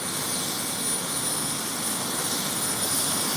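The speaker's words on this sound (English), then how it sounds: "So if you're just watching, this helicopter just landed here." A helicopter lands nearby at a flood clean-up site in Marshall, North Carolina, producing a loud, steady broadband roar of rotor and engine that fills the whole clip without letting up.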